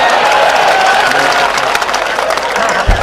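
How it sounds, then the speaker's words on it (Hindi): A crowd applauds at a live kavi sammelan poetry recital in Mandsaur, a loud, dense and steady clapping that fills the whole stretch, with voices mixed into it. "ताली बजा रहे।"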